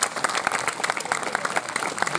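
A crowd at a college Independence Day celebration applauds its student performers, with dense, loud, close clapping running steadily throughout.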